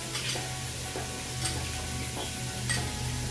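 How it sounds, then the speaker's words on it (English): Onions and garlic sizzle steadily in a hot pan, a soft continuous frying hiss with a few faint stirring clicks and a low hum underneath. "So the onions are cooking pretty fast."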